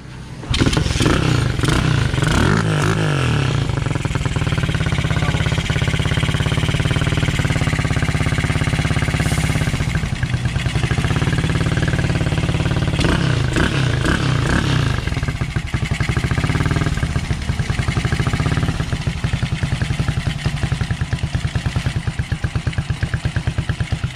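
A Rusi 125 motorcycle fitted with a CG 200 engine and a temporary gas tank runs loud and close, holding a steady idle with a rapid mechanical clatter and brief revs throughout.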